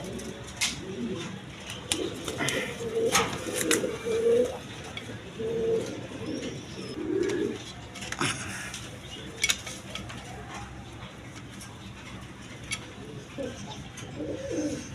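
A pair of big, healthy satin pigeons, one male and one female, coo in a run of soft, rhythmic calls that fade out. Faint clinks of dishes and scattered light knocks follow.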